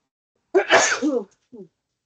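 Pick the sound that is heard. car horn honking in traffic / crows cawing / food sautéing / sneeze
sneeze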